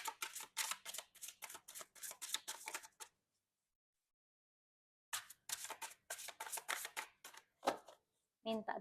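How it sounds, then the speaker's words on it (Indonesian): Tarot cards being drawn and handled, giving rapid papery flicks and shuffling riffles in quick bursts, close and soft, with a silent pause between two runs of handling. "Kita ambil 3 kartu lagi"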